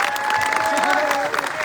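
A crowd applauds steadily to welcome a guest at a public gathering honouring a minister, the clapping dense and continuous throughout.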